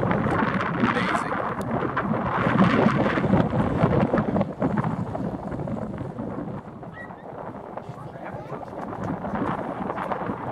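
Strong wind buffets the microphone on a hilltop at Lapham Peak in Wisconsin's Kettle Moraine State Forest, a constant loud rumbling roar with gusty swells and no clear speech over it.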